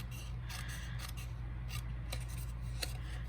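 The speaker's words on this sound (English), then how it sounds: "we're actually just going to use our paper snips and cut these out" Paper snips cutting out embossed paper shapes, a run of close, crisp snips in an uneven rhythm over a steady low hum, with no voices.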